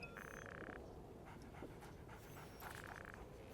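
A dog pants softly in Call of Duty: Ghosts, quick rhythmic breaths at close range under a steady hum of game ambience, fairly quiet throughout.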